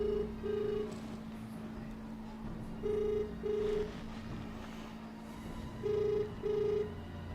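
A telephone rings in three evenly spaced double bursts, each a ring-ring about three seconds apart, moderately loud over a steady low hum, with no one speaking.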